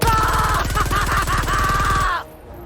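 A rapid, continuous burst of automatic gunfire from a Helldivers 2 machine gun at maximum fire rate, loud and harsh, stopping abruptly near the end.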